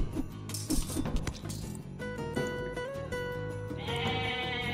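Goats bleat in the strategy game Age of Mythology over layered game music and metallic clinks. A higher, sustained bleat-like call rises toward the end.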